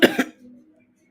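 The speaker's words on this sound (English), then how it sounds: "excuse me for coughing" Two quick, close coughs in succession, followed by a faint low hum.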